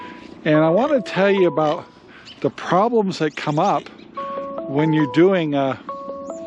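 A mobile phone rings with a repeating electronic melody, heard as two bursts of chiming tones, beneath someone speaking steadily and close.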